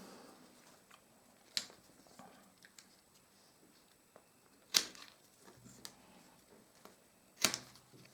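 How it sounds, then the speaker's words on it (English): Pruning shears cut willow tips at the bottom of a woven basket base, giving three crisp, isolated snips spaced a few seconds apart with faint handling rustle between them. "All of these tips at the bottom are in my way, so I'm just going to cut them."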